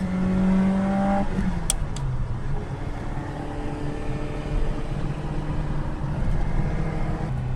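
A Ferrari or Fiat X19 engine accelerates hard, its loud, steady drone dropping in pitch at a gear change and then building again as it pulls through the next gear, with no talk over it.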